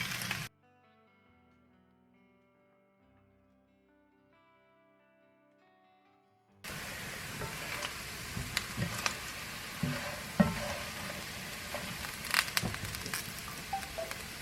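Spam frying in a cast iron pan gives a steady, close crackling sizzle with scattered louder pops, starting abruptly after several seconds of near silence with faint tonal background.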